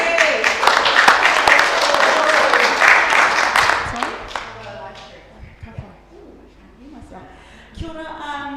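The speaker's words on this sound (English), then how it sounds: "Applause, everyone." Applause at a Māori elections livestream event, a burst of crowd clapping and a few whoops that fades after about four seconds, leaving scattered claps, murmurs and a speaking voice.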